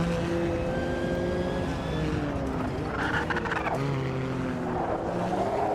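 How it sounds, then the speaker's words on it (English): Race car engines in the racing game Automobilista 2 drone continuously with shifting, overlapping pitches as several cars run close together, steady and fairly loud throughout. "At least you guys get to hear their engine properly."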